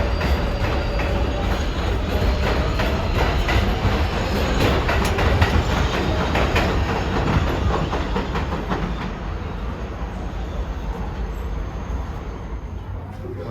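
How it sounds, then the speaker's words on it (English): A New York City 7 line subway train pulls out past Long Island City, its loud continuous rumble and rattling clatter filling the scene before easing slightly toward the end. "The Manhattan-bound train leaving"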